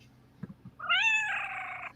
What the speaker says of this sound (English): I don't know if you're hearing her meow